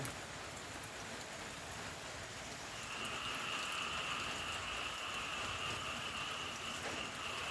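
Steady, dense rain hiss fills the whole stretch, growing slightly louder and brighter about halfway through, with no voices.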